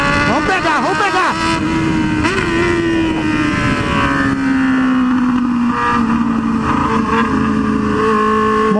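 A Honda Hornet motorcycle with a quick shifter accelerates hard past other motorcycles, its engine note rising and dropping through quick gear changes under steady wind noise, with someone talking over it.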